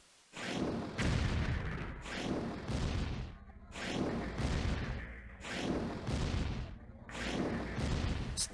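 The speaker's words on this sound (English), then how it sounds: "That is the artillery shooting at this" Artillery fire in the C&C Red Alert mod Red Alert Alternative, a series of heavy booming shots repeating every second or so, each with a rumbling tail, loud and close.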